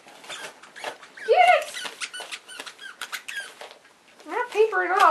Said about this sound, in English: Oh, it squeaked.